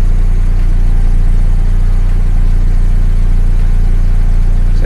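A car engine runs steadily with an OBD code reader connected, a loud, continuous low drone with a constant hum and no clear revving, close to the microphone.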